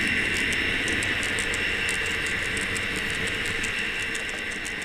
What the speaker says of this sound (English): this time in the cab of an SD40-2 diesel